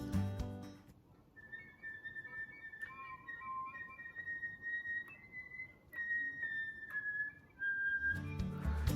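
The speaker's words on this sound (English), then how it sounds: "You might notice that whistle tones actually have pitch." Thin, high flute whistle tones drift between a few sustained pitches, quiet and airy, with soft breath noise before and after.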